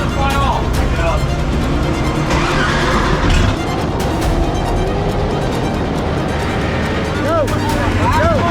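Engine revving up hard at a competition against the clock, a loud sustained roar under excited shouting voices.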